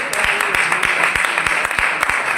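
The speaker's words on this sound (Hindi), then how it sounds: "क्या कोई ताली बजा सकता प्रभु के लिए?" Church congregation clapping for the Lord during a Hindi-language sermon at a Punjabi church: a steady run of hand claps, fairly close and moderately loud, with no voices.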